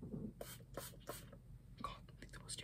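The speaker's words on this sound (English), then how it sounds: "on this arm, I'm going to do the Warm and Cozy Toasted Coconut Passion Fruit and Soft Vanilla Spray" Perfume body spray is misted onto an arm in several short, soft hissing bursts, close and quiet.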